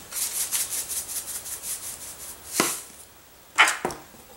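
Mustard, minced garlic, pepper and salt are whisked together in a bowl for a potato and Jerusalem artichoke salad dressing: a steady run of quick, rhythmic scraping strokes, then a pause with a couple of sharper clinks, close and fairly quiet.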